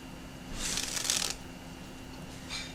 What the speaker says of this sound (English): Takes a group of black cards.